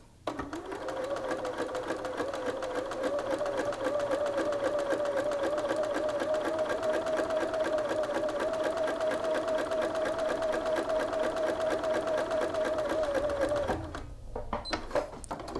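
A sewing machine runs in one long continuous stitch along a shirt sleeve, its fast steady whir and needle clatter close and loud for about fourteen seconds before stopping, then a few short bursts follow.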